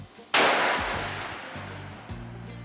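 A single loud rifle shot cracks out while a hunting scope is being sighted in, followed by a long decaying echo and a low rumbling background.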